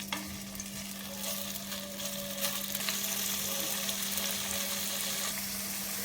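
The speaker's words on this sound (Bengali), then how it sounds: "এবার পনিরের টুকরোগুলো দিয়ে হালকা করে একটু ফ্রাই করে নেব।" Paneer pieces frying lightly in hot oil for a vegetarian milk-paneer dish, with a close, steady sizzle, occasional stirring and a constant low hum underneath, no talking.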